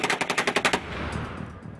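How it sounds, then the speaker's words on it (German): A burst of rapid machine gun fire during heavy shelling in Ukraine, about eight sharp, loud shots in quick succession that ring out into a rumbling echo. "Ukrainische Regierungstruppen unter schwerem Beschuss."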